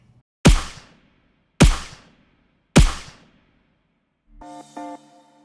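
Layered gunshot of body and voice sounds blended with real gunshot recordings: three loud, sharp blasts at steady intervals with quick decaying tails, followed by a brief tonal ringing effect.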